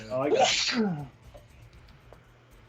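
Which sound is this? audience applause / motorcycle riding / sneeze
sneeze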